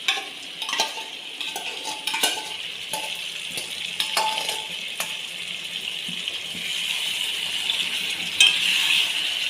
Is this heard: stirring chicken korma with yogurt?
yes